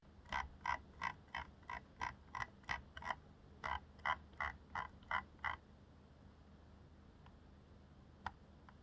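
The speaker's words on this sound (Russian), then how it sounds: "При прокрутке оно громкое, имеет четко выраженные позиции." A rapid series of crisp plastic clicks from the loud, distinctly notched scroll wheel of an MSI Clutch GM41 wireless gaming mouse, two quick bursts of ticks, then a couple of isolated clicks after a pause.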